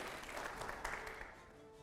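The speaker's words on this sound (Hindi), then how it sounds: "अगले सवाल की तालियां जोरदार तरीके से" Hands clapping from a studio audience during a Hindi debate show, a thick steady wash of applause that thins and fades slightly toward the end, with no talk over it.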